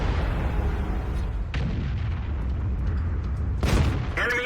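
Tank guns fire in a World of Tanks battle, with low booming blasts and bursts over a rumbling game soundscape, the sharpest reports at about 1.5 and 3.7 seconds.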